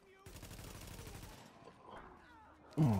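Gunshots in The Division rattle off as a rapid automatic burst for about a second, followed by quieter scattered game noise and a sudden loud sound at the end.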